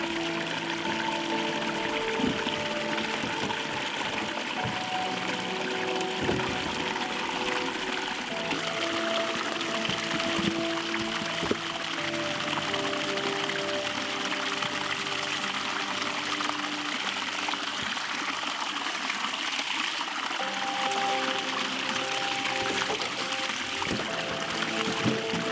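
Snow meltwater trickles and pours steadily at a remote tent campsite, a continuous close liquid sound filling the span with no one talking.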